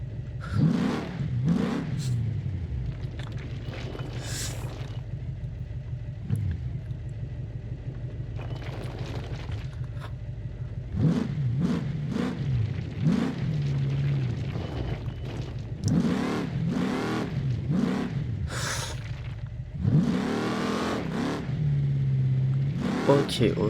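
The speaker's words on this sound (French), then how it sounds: "Le moteur il a du mal, hein." A car engine labours on a hazardous mountain road in the driving game Dangerous Road 2, a low droning hum that swells with repeated revving surges, while someone talks over it.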